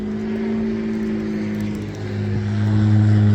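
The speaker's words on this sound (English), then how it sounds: "Airplane." An airplane flying overhead makes a steady low droning hum that swells louder toward the end, heard alone without voices.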